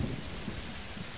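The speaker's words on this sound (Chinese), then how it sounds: "下雨了呀！" Steady rain pouring down with a low rumble of thunder underneath, a brief, moderately loud wash of noise with no voices.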